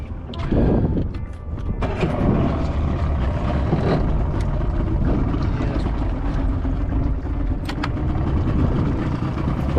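Outboard motor on a small fishing boat on Brisbane Waters, put into gear with the propeller turning; a loud, steady, close engine drone with water noise runs throughout.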